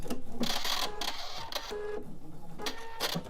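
A sewing machine stitches a flying-goose quilt block seam, its needle chattering in a fast, even rhythm at close range that runs continuously throughout.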